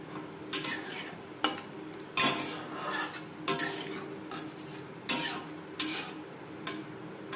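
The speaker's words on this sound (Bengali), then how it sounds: "রসুনের সাথে আরও তিন চার মিনিট নাড়াচাড়া করে নেওয়ার পর দিয়ে দেবো জল" Egg curry with garlic being stirred in a pan, a metal spoon scraping and clinking against the pan in repeated strokes every second or so over a steady cooking sizzle.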